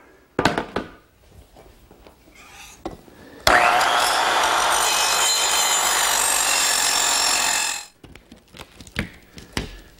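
A power saw trims a piece of wooden lattice for a gazebo frame, cutting in one loud, steady burst of about four seconds, with light knocks and handling noises before and after.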